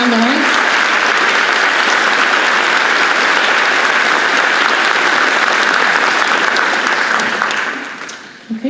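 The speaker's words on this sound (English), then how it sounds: "So please, Sean, come on out for a round of applause for Sean Lawrence." An audience at an 8th grade celebration applauds loudly and continuously for about eight seconds before fading out, with a few voices mixed into the crowd.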